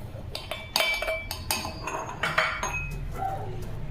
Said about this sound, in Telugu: ఏంటి అది దంచుతున్నావు?